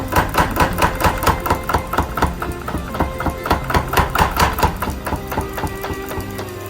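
A Little Giant power hammer pounds in a fast, steady mechanical rhythm, loud and close. The regular thuds ride over a running motor and belt drive, with no talk.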